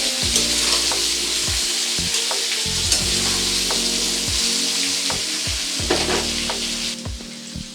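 Diced potato and papaya fry with salt in a pan: a steady, loud sizzle of hot oil with intermittent scrapes and clinks of a spatula stirring, continuous throughout, no voices.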